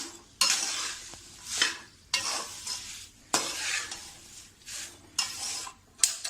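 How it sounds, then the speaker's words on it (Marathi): Thin poha chivda being stirred with masala in a pan after the gas is turned off, in repeated scraping, rustling sweeps at a slow rhythm, close and fairly quiet, with brief pauses between strokes. "गॅस बंद करून आपल्याला चिवडा जरा ढवळून घ्यायचा आहे. व्यवस्थित आतमध्ये मिक्स करून घ्यायचा आहे मसाला."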